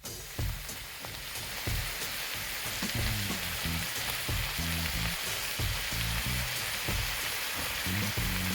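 Onions and minced garlic cook together in a pot for a chicken and broccoli dish, giving a steady, close sizzle with soft crackles and faint stirring knocks throughout.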